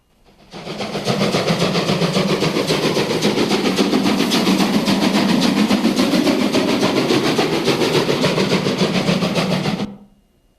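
A steam train chuffs past close by in a loud, rapid, steady rhythm, fading in at the start and cutting away sharply at the end.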